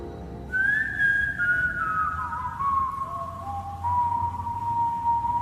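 A clear, melodic whistle carries a wavering tune over a soft, low musical backing with a rumbling bass synth, slightly off-pitch at times, in a song.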